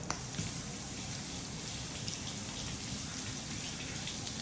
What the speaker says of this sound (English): rinse off my hands again